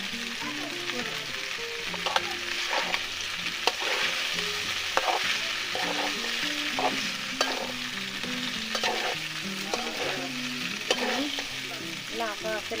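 Fried eggs being stirred into pasta in a frying pan, a continuous sizzle broken by repeated scraping and clinking of the spoon against the pan at an uneven rhythm, close and fairly loud with no talk.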